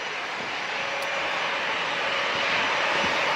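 An airplane landing at San Diego International Airport, a loud, steady engine roar that builds slightly as the aircraft passes close, with no talking.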